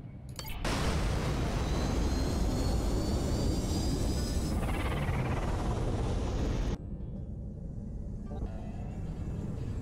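A spaceship lifts off in the space game Rebel Galaxy Outlaw, a loud, sustained engine roar that swells after a quiet start, holds steady, then drops to a lower rumble near the end.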